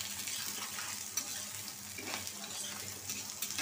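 Garlic, onion and two slit green chilies fry in a pan toward browning, giving a soft, steady sizzle with light stirring scrapes, quiet and close.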